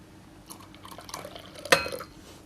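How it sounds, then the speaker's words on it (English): Half a cup of water is poured into a bowl of yeast and sugar for cinnamon bun dough, giving a soft liquid splash and trickle with a few light clinks against the bowl in a quiet kitchen. "we've got half a cup of water, which is going in there"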